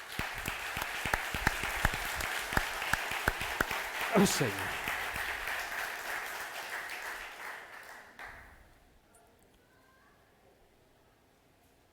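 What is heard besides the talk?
audience applause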